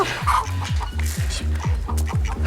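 Hens cluck in a steady, repeating pattern close by, with a few higher chirps and scratchy noises scattered over the top.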